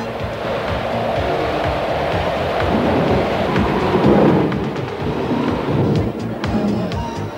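A thunderstorm at sea, heavy rain and rolling thunder, builds into a loud, continuous roar with a swelling rumble midway, dense and steady throughout.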